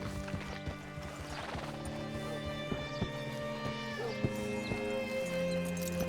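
Hooves clip-clop steadily with a horse's whinny in Red Dead Redemption 2, under a sustained musical drone, all fairly loud and close.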